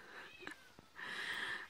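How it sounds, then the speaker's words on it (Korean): A cat meows a few times, short calls followed by a longer drawn-out one, fairly faint against a quiet room. "저희 집 고양이가 막 울고 있네요."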